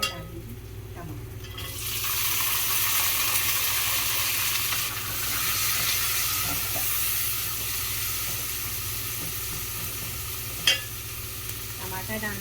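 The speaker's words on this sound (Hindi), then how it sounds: "थोड़ी देखिए हल्का सा तेल गर्म है और ये पहले तैयार। अब मैं इसमें डाल दूँगी टमाटर।" Tomatoes hit hot oil for rajma and burst into a loud, broad sizzle after a quiet opening, then keep frying steadily close by, with a brief clatter late on and no talking.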